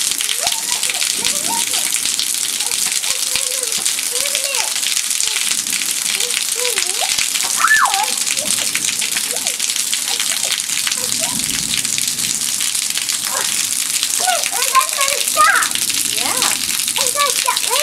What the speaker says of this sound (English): It's gonna stop raining.